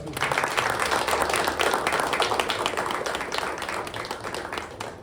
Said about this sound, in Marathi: तर त्या सगळ्यांसाठी आपण टाळ्या वाजूया.